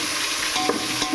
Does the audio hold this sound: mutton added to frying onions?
yes